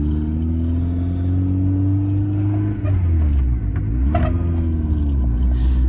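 An EV project car drives with a squealing belt, a steady engine rumble under a continuous warbling whine that bends up and down in pitch, with occasional clicks and rattles.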